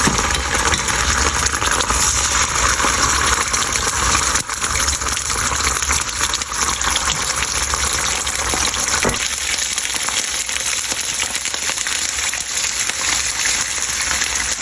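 Tomato sauce pouring into a pan of hot olive oil, a steady broadband sizzle and gush that runs loud and unbroken, easing slightly in the second half, with no talking.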